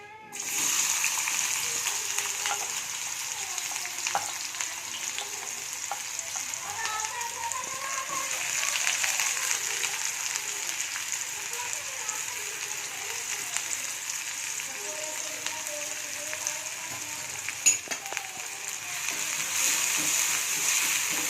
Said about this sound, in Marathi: तर मी कांदा मस्तपैकी भाजून घेते लाल होईपर्यंत